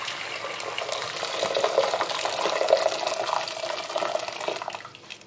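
About 1.5 litres of boiling water pours steadily onto a cup of salt for a fish-sauce pickled napa cabbage brine, a continuous close splashing and gurgling that tapers off at the end.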